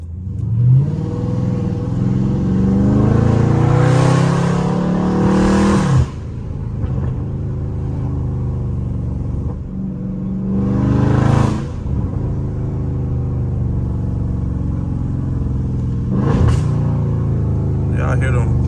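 A loud Dodge Scat Pack revs hard several times in a neighborhood, engine surging and falling close by with exhaust pops and crackles, while people talk over it.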